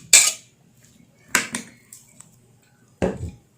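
Pieces of bitter gourd are tipped onto a platter: three short, bright clinks and scrapes of a utensil against the dish, close and separated by quiet pauses.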